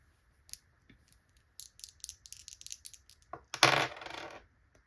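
Dice rolled and tumbling onto a hard surface, beginning with a few sparse light clicks, then a quick run of rattling taps, and ending in a louder scattering clatter that fades out, close and clear in a quiet room.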